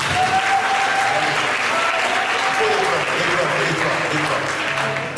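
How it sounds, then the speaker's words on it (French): A church congregation applauds together, a dense sustained clapping that fills the room for several seconds, with a few voices calling out underneath. "Est-ce qu'on peut acclamer la parole?"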